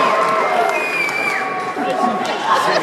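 A live theater audience at a cast-and-creators evening show in Milwaukee cheers and shouts, a loud, dense wash of whoops and voices sustained throughout, with some talking mixed in.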